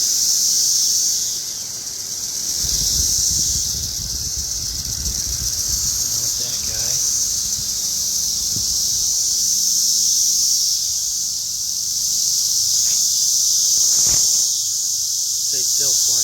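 A cicada swarm fills the air with a dense, continuous high-pitched buzz that holds steady throughout, with a few faint rustles and pops underneath.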